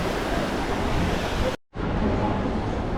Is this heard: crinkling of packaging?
no